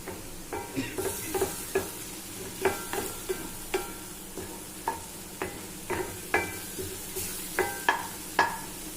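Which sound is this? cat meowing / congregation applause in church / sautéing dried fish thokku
sautéing dried fish thokku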